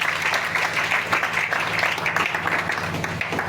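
A church congregation claps and applauds in praise, a steady continuous wash of clapping filling the room, with a preacher's voice faintly mixed underneath.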